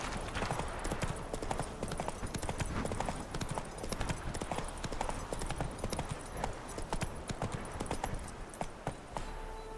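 The horse's hooves clip-clop at a steady walking rhythm in The Witcher video game, the footfalls continuous and fairly close.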